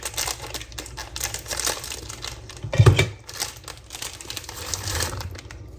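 Flavored candy packets are cut open and crinkled, giving rustling plastic crackles throughout, with a sharper tearing snap near the middle; no one speaks.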